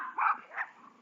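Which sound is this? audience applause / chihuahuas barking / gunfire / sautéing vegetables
chihuahuas barking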